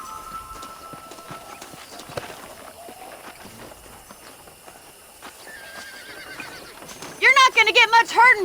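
A horse in the Red Dead Redemption video game whinnies loudly in a wavering, rising-and-falling call near the end, after scattered hoof clip-clops under background game ambience and speaking voices.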